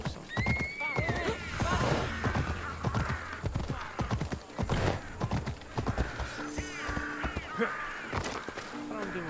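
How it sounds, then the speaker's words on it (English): Horse neighing and whinnying with clip-clopping hooves in the game Assassin's Creed Odyssey, several loud whinnies over steady hoofbeats, with someone talking over much of it. "I was trying to tell my horse to stay on the fucking road"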